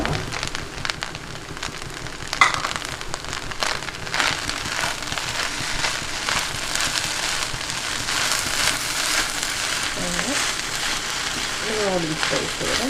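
Noodle rice stirred together with grated coconut in a hot pan gives a steady sizzling hiss with soft scraping stir strokes, close and continuous for several seconds.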